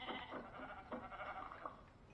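Sheep bleating in the video game Minecraft, a few soft, wavering bleats in quick succession, quiet and alone.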